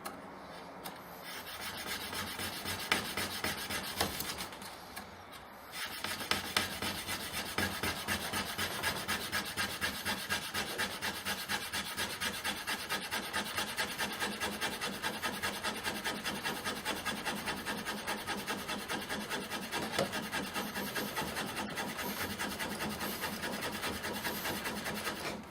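Fire plow friction fire-making: a half-inch-wide wooden strip is driven back and forth along a groove in a wood base to form an ember, giving a loud, continuous rhythmic rasping rub with a brief pause near the start.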